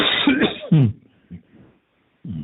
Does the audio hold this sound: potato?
no